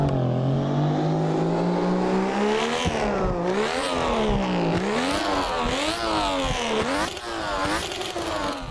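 A Nissan S15 in a video game, fitted with a 1JZ engine sound mod, revs hard and continuously. The note climbs, then bounces repeatedly off the rev limiter in a rapid, wavering pattern.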